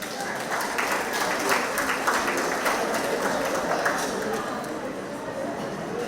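Audience clapping at a community group's monthly meeting in a hall, a dense patter of many hands going on for several seconds, with some talk mixed in.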